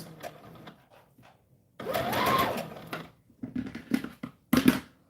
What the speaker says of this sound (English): then I'm going to sew all the way across